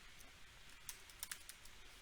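Quick, irregular keystrokes on a computer keyboard, a short burst of sharp clicks typing a word into a cloud console search field, close and alone with no talking.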